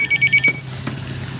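A cellphone rings in repeated short electronic bursts, several quick pulses close by, before cutting off into quiet room tone.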